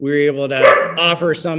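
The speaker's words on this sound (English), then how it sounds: "oh, that was my dog, sorry about that." A pet dog barks in a home during an online agricultural planning committee meeting, the yips mixed in with and partly under a person's steady speech.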